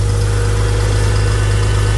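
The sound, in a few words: Farmall Cub tractor engine running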